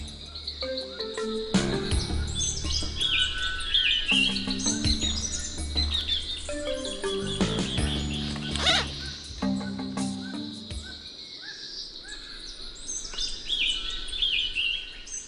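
Strange South American birds give ringing metallic calls, repeated clanging and chiming notes with chirps and an insect hum underneath, outdoors at moderate distance.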